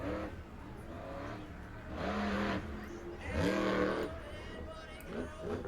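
Monster truck engine revving during a run at a Versus Monster Trucks event in Ransomville, NY, rising in surges on takeoff, heard moderately loud from the stands under an announcer talking.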